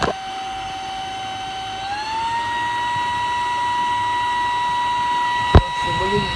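A Laresar Elite 4 cordless vacuum motor whines steadily in a strong tonal hum, stepping up in pitch partway through as the speed changes, with a brief click near the end.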